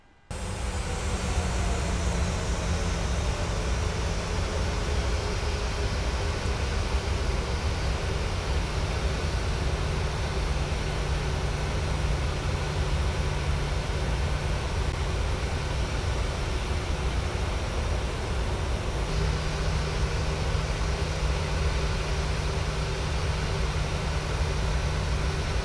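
A PMDG airliner taxis in Microsoft Flight Simulator, its jet engines giving a steady, loud, broadband whine and rumble that holds unchanged for the whole stretch, with no talking.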